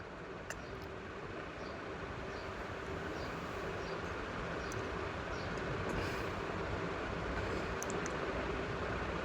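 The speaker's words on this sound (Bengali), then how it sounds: "প্রথমবার যাচ্ছি ট্রেনে।" Train noise at a railway platform in Bangladesh before boarding for Kishoreganj: a steady, broad rumble and hiss of rail sound with faint metallic clicks and squeals, continuous and fairly distant throughout.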